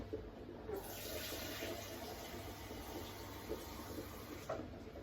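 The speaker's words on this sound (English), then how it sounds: "So first I'm gonna get a jug, get some water in it." Tap water running steadily into a jug in a kitchen while cooking dumplings, a continuous faint rushing stream lasting several seconds with no talking.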